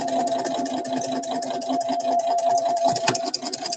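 A sewing machine runs a backstitch, a loud, close, steady mechanical whir with a fast even needle rhythm that catches slightly near the end.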